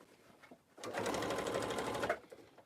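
A sewing machine runs a short burst of fast, even stitching along a tote bag seam, close and fairly quiet, starting and stopping abruptly with brief handling noise around it.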